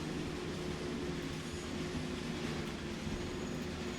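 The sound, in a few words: train running in Train Sim World video game, BR 182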